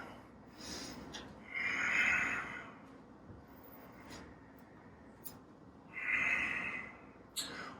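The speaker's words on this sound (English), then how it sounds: "you're enjoying breathing deeply with that ujjayi sound" Slow, deep ujjayi breathing during a vinyasa yoga class: two long, hissing, throaty breaths swell and fade several seconds apart. The breathing is soft and close, with quiet room tone between the breaths and no speech.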